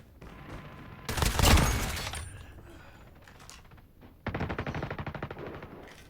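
Bursts from the Chopper light machine gun in Call of Duty Mobile: a loud, rapid burst early on, then quieter rattling, and a second fast, even burst near the end.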